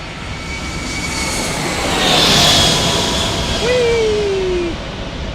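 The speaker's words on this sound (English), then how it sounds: "we've got Delta A319 arriving from Seattle" A Delta Airbus A319 arriving at San Diego airport produces a broad, rising and swelling jet roar with a faint whine, heard from a distance and fading out.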